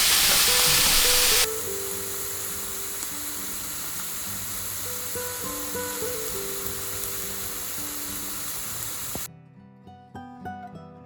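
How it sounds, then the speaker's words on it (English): Mushrooms sautéing in a pan make a steady hissing sizzle throughout, loud at first and then settling, with tonal background sounds layered over it and a quieter stretch near the end. "we're just gonna saute these until the mushrooms are nice and tender but not soggy"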